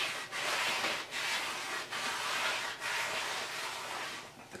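A clean cloth rubs repeatedly across the inside of a brake drum, giving steady close wiping strokes in four or five broad passes with short pauses between them.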